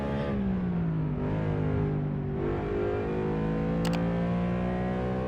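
An Aston Martin Vulcan in Assetto Corsa, its engine wailing continuously at high revs, pitch dipping and climbing through gear shifts, loud and close.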